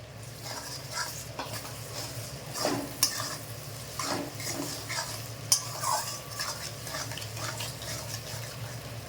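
A spatula scrapes and stirs a chowmein and chicken mince mixture in a kadai, making a quiet, continuous shuffling with a faint sizzle and a few sharper clicks of metal, with no talking.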